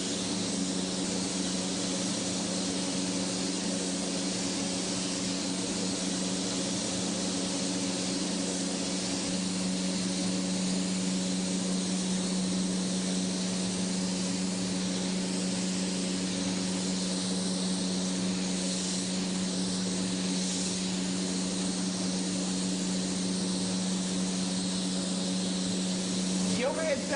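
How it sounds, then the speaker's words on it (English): Overhead extraction fans drawing off overspray from an industrial candy spray gun produce a steady, broad hiss and drone with a constant low hum, continuous and unchanging throughout. "The overhead sound you're hearing are the fans to inhale the overspray of this candy"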